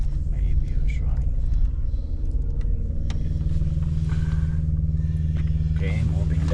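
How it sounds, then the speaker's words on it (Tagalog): A pony motor on heavy-haul equipment at a wind turbine project idles steadily with a low, constant engine rumble throughout, fairly close, with faint sounds of activity over it. "Fire up the pony motor."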